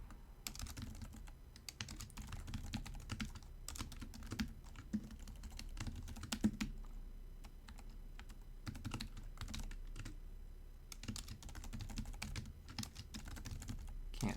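Continuous rapid typing on a computer keyboard while programming a CHIP-8 emulator, dense irregular clicks and clacks at close range with no talking.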